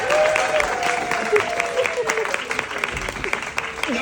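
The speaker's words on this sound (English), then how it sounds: "Round of applause for Helen." A kids' comedy show crowd applauds a young volunteer named Helen: a steady wash of clapping and cheering, with a voice speaking over it throughout.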